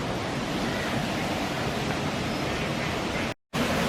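Water from a canal's high level spills through an overflow down to the lower level on a Saddleworth countryside walk, a steady, loud rushing roar that holds unbroken until a brief dropout near the end.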